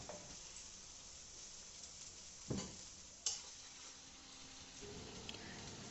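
Masala stirred in butter in a pan gives a faint, steady sizzle, and two soft taps of the spoon land in the middle.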